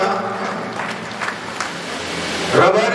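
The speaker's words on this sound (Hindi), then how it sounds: "एक बार तालियों से जोरदार स्वागत करें।" A crowd at a Rabari community gathering in Jaipur claps to welcome speakers, with short, scattered bursts of applause under someone talking into a microphone.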